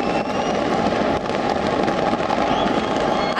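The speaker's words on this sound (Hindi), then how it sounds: "ऑकलैंड शहर के 328 मीटर ऊंचे स्काई टावर से शानदार आतिशबाजी की गई।" New Year 2022 fireworks launched from Auckland's 328-metre Sky Tower, using over 500 kg of pyrotechnics, crackle and pop in a dense, continuous barrage, loud and sustained with scattered sharper bangs.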